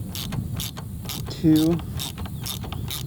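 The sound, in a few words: clicks of Honda Africa Twin suspension adjuster being cranked up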